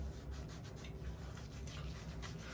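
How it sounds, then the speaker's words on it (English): A lemon and baking soda mixture is rubbed on an armpit, giving a soft, steady scrubbing rasp that continues evenly for a couple of seconds, close and quiet with no talk. "you're gonna rub that mixture on your armpit"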